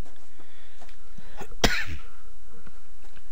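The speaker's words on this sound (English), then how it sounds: "sorry for that coughing in the background" A single sharp cough in the background, brief and somewhat distant, standing out against a quiet room.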